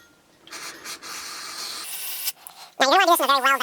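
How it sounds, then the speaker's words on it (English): A steady hissing spray of aerosol carburetor cleaner runs for a couple of seconds, then cuts off as a loud animal cry, like a meowing cat, breaks in. "we're going to give this a good spray."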